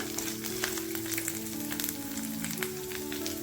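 Grated coconut roasting in a pan for tomato chutney gives a steady, close frying sizzle with scattered crackles and pops, and nobody speaks.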